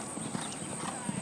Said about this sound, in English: Here comes a couple horses.